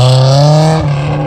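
A loud custom car engine revs hard at close range, a strong buzzing drone that holds and then drops slightly in pitch, brief and alone.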